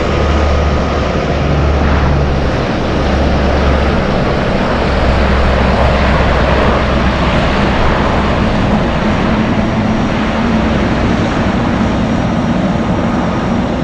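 A Hercules aircraft at an Anchorage airport, a loud steady roar of propeller engines that holds for the whole stretch, with no talking.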